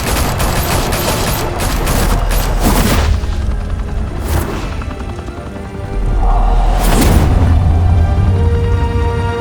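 Loud gunfire in Batman: The Telltale Series: bursts of rapid shots and heavy booms, a dense fusillade that eases briefly midway, then swells again with deep rumbling impacts.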